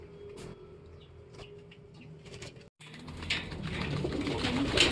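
Racing pigeons in a loft coo softly and intermittently, with low, faint calls and some rustling, followed by a louder, broadband shuffling noise as the birds move about.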